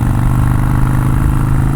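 Harley-Davidson Iron 883 Sportster V-twin engine braking after a downshift on an open road, a steady loud low rumble with a fast pulsing throb, close and continuous, no speech.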